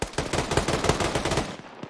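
Rapid automatic gunfire from an ArmA 3 firefight aimed at bunkers, a dense, loud stream of close shots for most of the span before tapering off with a couple of isolated reports.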